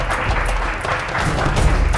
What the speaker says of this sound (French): mais il y a de quoi, on applaudit.